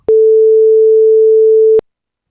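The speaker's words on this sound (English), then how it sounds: "it plays a 440 Hz sine wave of the time length I specify" A pure, steady 440 Hz sine-wave tone holds for about two seconds, then cuts off abruptly with a click at each end.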